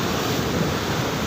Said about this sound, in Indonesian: ombaknya ganas